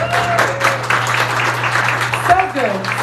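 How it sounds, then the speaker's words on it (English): An event audience applauds for the first speaker, a sustained crowd of clapping hands with voices mixed in and cheering, steady and fairly loud. "give a beautiful, amazing, Texas-sized, bigly round of applause for our first speaker"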